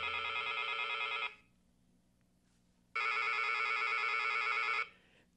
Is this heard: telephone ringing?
yes